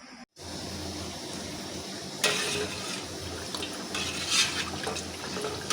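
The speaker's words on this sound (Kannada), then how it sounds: "ಇವಾಗ ಇದನ್ನು ಮಜ್ಜಿಗೆಯಲ್ಲಿ ಕಲಿಸ್ಬೇಕು ಬನ್ನಿ" Ground green chili chutney is stirred into buttermilk in a steel vessel, a soft liquid swishing with light clinks of a spoon against the container, close and steady after a brief pause at the start.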